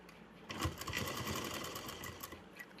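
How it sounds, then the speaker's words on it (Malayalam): A sewing machine stitches fabric along one side of a stylish children's skirt and top, its needle running in a fast, steady mechanical patter, close and alone without talk. "ഈ ഒരു സൈഡിൽ നിന്ന് സ്റ്റിച്ച് ചെയ്തെടുക്കാം"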